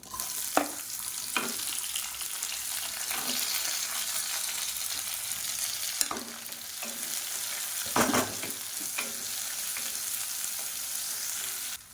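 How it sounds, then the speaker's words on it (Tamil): Finely chopped small and large onions fry in oil for sambar, a soft continuous sizzle broken by occasional stirring scrapes and clacks of a spoon in the pan. "இப்போ வெங்காயம் நல்லா வதங்கிடுச்சு."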